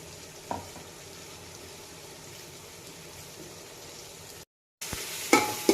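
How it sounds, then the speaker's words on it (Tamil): Tomato, onion and ginger garlic paste sauté in hot oil, giving a soft steady sizzle with a few stirring clacks. It breaks off briefly, then returns louder with sharper spatters. "இது இப்போ நல்லா வதங்கி எண்ணெய் பிரிஞ்சு வரட்டும்"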